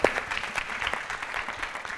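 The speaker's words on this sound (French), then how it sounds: "Nous allons l'accompagner avec des applaudissements." An audience at a French-language comedy show applauds, a brief, moderately loud burst of clapping that holds fairly even throughout.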